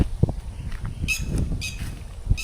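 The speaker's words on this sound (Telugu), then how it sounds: "ఈ పక్షులు రోడ్డు గట్టిగా అరుస్తున్నాయి" Birds call loudly at night in a forest area during solo night camping, giving short, shrill, repeated bursts of calling over a low background rustle and hum.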